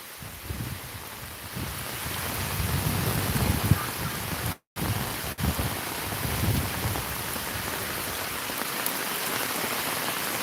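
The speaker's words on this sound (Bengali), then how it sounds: "বৃষ্টি আর বৃষ্টি, প্রচুর বৃষ্টি, বৃষ্টি বৃষ্টি বৃষ্টি।" Heavy rain in a Sylhet village pours down in a dense, continuous roar with gusts of wind buffeting the microphone, briefly cut out midway.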